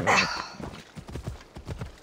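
Horse hooves clip-clop in Assassin's Creed Odyssey, a steady close trotting rhythm of soft thuds following a brief whoosh at the start, with no talking.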